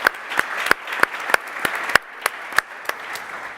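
Audience applause for the competing finalists at a startup brewery challenge winner announcement, a steady patter of clapping hands with sharp individual claps standing out throughout.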